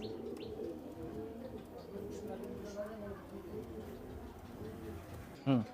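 Farm pigeons cooing, low soft rolling coos repeating steadily in the background with faint chirps, a brief sharper call near the end.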